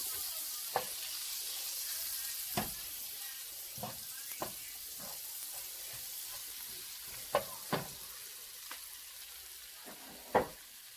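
Butter melts and sizzles in a pan for pork sisig, a faint steady hiss broken by occasional knocks and scrapes of a utensil against the pan.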